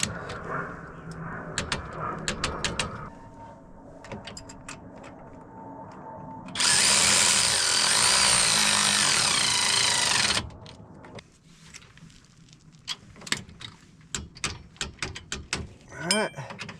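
A power tool, likely an impact driver, torques down trailing arm bolts on a RZR side-by-side, running in one steady, loud burst of about four seconds. Scattered clanks of tools and parts come before and after it.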